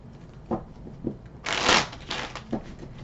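A deck of tarot cards being shuffled close up, with a few soft riffling taps followed by a louder, sustained burst of shuffling and then lighter flicks toward the end.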